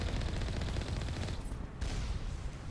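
Automated turret fire in the video game Mass Effect Legendary Edition, a continuous stream of fairly quiet, rapid shots that thins briefly midway and then resumes.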